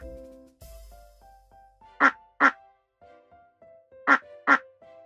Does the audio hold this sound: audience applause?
no